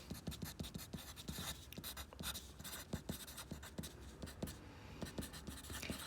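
A pen scratches out a chemistry equation on paper or a tablet, steady close strokes and taps at low volume with no voice over them.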